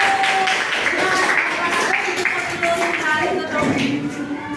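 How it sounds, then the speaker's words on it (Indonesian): Audience applause at the close of a school group presentation, a dense, steady wash of clapping lasting throughout, with voices talking over it. "Dan Beri tepuk tangan untuk Bapak Satu."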